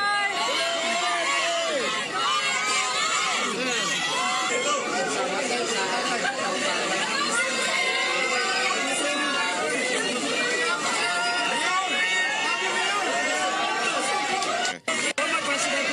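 A large outdoor crowd in Davao shouting and cheering at Duterte's return to the city, a dense, loud, continuous roar of voices and yells that barely lets up, with a brief dip near the end.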